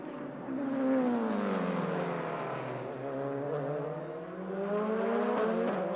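Mercedes-Benz DTM touring race cars at a 2004 championship race, engines droning at high revs with pitch sweeping down and then climbing again as they pass, loud and continuous.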